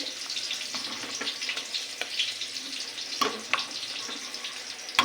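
Cauliflower sizzling in oil alongside a pot of khichuri bubbling up on a home stove, a steady watery hiss with soft crackles and a few sharper pops, close and moderately quiet, no talking.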